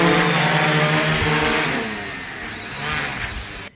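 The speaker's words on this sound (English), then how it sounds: "So now let's land our drone." A quadcopter drone hovering and coming in to land gives off a steady, close, buzzing propeller whine. Its pitch sags as it descends, and the sound cuts off abruptly when it touches down.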